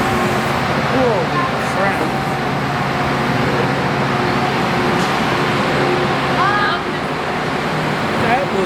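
A crowded Metra commuter train rolls along with a loud, steady roar and rumble, brief squeals rising over the din, while a man exclaims briefly amid the continuous noise.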